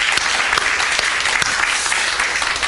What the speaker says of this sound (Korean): 다시 한번 큰 박수 하십시다.